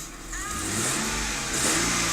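A Mercedes E240 automatic seven-seater engine running close by, rising from a steady idle into two revs that swell and stay loud, with no talking.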